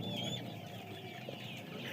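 Kadaknath desi hens cluck softly and continuously at a distance, with faint, scattered bird-like calls over a low background murmur.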